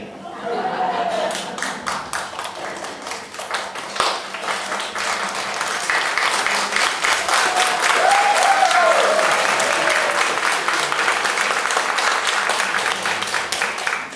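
Comedy show audience breaking into sustained applause, a loud, dense roll of clapping that swells and holds for over ten seconds, with scattered chuckles mixed in.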